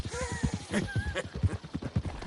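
Horse hooves clip-clop in a quick, regular rhythm in the video game Red Dead Redemption 2, close and moderately loud, with a brief whinny and faint game voices mixed in.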